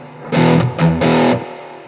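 Electric guitar played through a boutique-style distortion pedal, three chunky distorted strums or chords in a quick, close, loud burst with nothing else around it.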